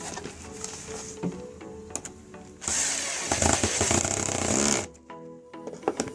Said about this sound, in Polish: No i nawiercimy sobie jeszcze. Bardzo ostrożnie, żeby nie uszkodzić membrany.